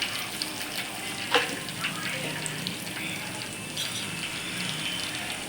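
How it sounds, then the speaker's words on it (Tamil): Cumin, pepper and salt fry in hot oil for a mushroom gravy, a continuous soft hiss with a few small pops and crackles, fairly close. "இது பொரியட்டும்."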